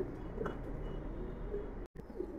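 Soft, close cooing from pigeons in a quiet loft holding high-flyer birds, including a pair of Saharanpuri pigeons with their young. The calls repeat gently through a low hum, with a brief dropout near the end.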